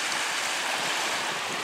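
Water waves washing onto the shore at Kincardine, a steady loud wash of surf with wind noise and no speech.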